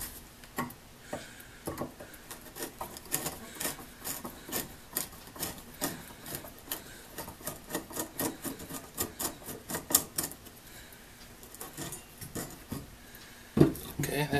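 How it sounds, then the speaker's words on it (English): Screw being backed out of an old Swan beam drilling machine, a corroded iron workpiece, giving a run of close, dry rasping and ticking strokes in an irregular rhythm, with a sharper knock near the end. "with any luck, I'll be able to back this screw out"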